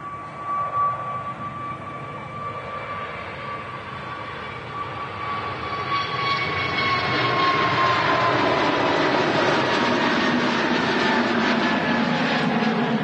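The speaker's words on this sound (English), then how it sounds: "easyJet A320 Neo departing" easyJet Airbus A320neo jet departing Manchester Airport, a powerful broadband engine roar with a steady whine that swells louder as the aircraft accelerates and climbs, with no talking.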